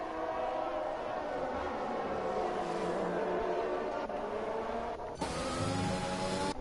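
F1 race cars roaring in a racing video game at the Spain circuit, a continuous dense engine drone with shifting pitch and a sharper burst near the end, commentary faintly beneath.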